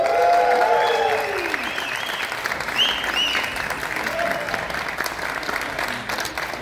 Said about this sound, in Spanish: Quiero que le brindemos un fuerte aplauso al personaje de Miranda Moore.